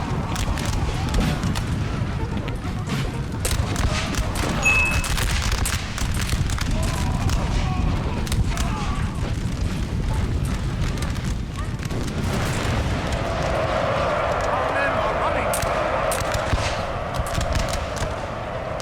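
Dense musket volleys and booming battlefield fire from a Napoleon: Total War battle roll on continuously, a loud layered crackle and rumble with no pauses, thickening toward the end.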